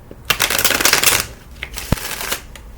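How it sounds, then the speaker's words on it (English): A thin-cardstock 1971 tarot deck is shuffled by hand, a loud close riffle burst followed by shorter softer riffles and light taps. "here I can actually shuffle this one in front of you because the cardstock isn't so thick"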